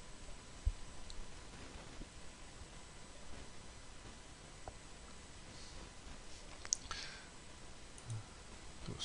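A computer mouse clicks a few times, faint and sparse over a steady hiss of room noise, with no one talking.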